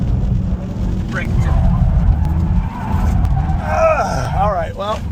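A 2024 Dodge Charger Daytona electric muscle car slides sideways on worn tires, with loud rising and falling tire squeals over a steady road rumble, close and prominent.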